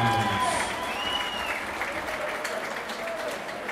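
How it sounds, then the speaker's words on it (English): A boxing event crowd applauds both boxers after a three-round bout, a continuous, moderately loud wash of clapping with a brief voice and scattered crowd noise near the start. "please give a warm round of applause to both boxers after three hard-fought rounds"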